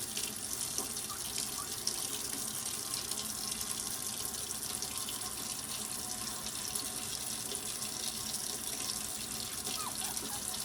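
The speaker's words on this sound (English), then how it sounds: "And then I wash from the front to the back to rinse out." Tap water pours steadily while a dog is rinsed during its first bath, a continuous close splashing hiss with no talking over it.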